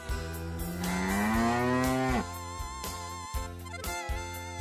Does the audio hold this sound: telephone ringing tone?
no